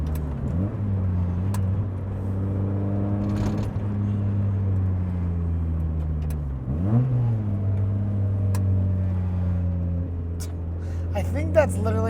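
Mazda NA Miata engine droning steadily while driving, pitch rising and falling through gear changes, with a faint rattle of the exhaust vibrating against something underneath; a person talks over it.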